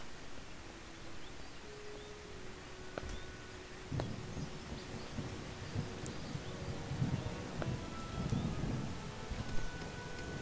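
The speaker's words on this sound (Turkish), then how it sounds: "yağmur sırasında yıldırım falan düşebiliyor yakınınıza" Thunder rumbles during steady rain in the video game Starbound, with low rolling booms building in the second half under a constant hiss of rainfall, fairly quiet overall.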